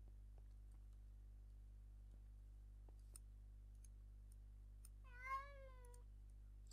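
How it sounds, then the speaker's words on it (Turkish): A cat gives a single drawn-out meow, near and clear, rising then falling, over a steady low electrical hum with scattered faint clicks and no speech. "Gene bir kedi başladı."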